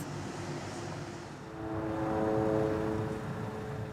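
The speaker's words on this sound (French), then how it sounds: "Des drones israéliens surveillent le ciel constamment." Israeli drones fly overhead above southern Lebanon, a steady droning engine hum that swells slightly louder midway and holds alone without voices.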